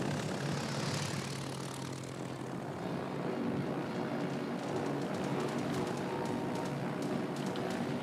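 Propeller aircraft engines droning in a naval warfare game, a steady, fairly distant hum with a rough, rumbling texture that holds evenly throughout with slight swells.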